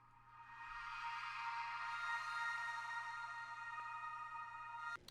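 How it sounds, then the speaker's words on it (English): A chord on a synth pad swells in and holds as one bright, sustained wash with a soft low hum beneath. It is played alone and fairly quiet, then cuts off at the end. "we have the same chord progression on a synth that sounds like this"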